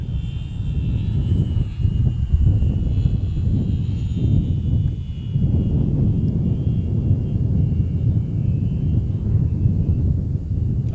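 A competition model airplane flies laps around a course, its engine drone steady and fairly loud throughout, rising and falling slightly as it passes through a loop and circles back.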